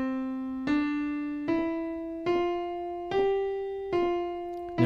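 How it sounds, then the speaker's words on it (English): Piano notes played legato, each one joining the next without a gap, five smoothly connected tones stepping slowly upward at moderate volume, close and alone. "So here's what legato looks like physically at the piano."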